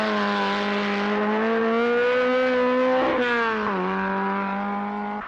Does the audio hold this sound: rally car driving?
yes